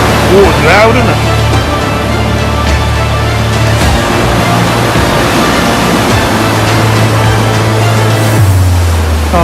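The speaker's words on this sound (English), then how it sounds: "Water's loud, isn't it?" Loud, constant roar of rough sea water surging and washing beneath a pier at Clacton, a dense broadband wash with low rumbling throughout and a voice talking over it.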